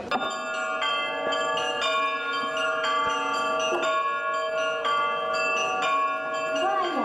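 Church bells ring continuously for the Easter service at a festival in Gagauzia, several overlapping tones struck in a steady rhythm, loud and resonant, with no talking.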